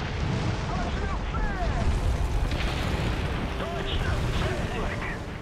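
Bombs exploding on buildings in the WWII flight combat game IL-2 Sturmovik: Birds of Prey, a continuous rumbling roar of blasts and crackling debris with faint whistling tones, steady and loud without clear separate impacts.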